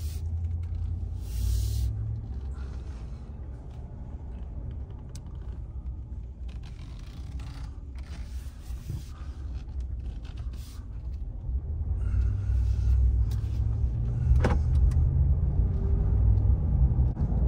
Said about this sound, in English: Okay, let's go for a little spin here.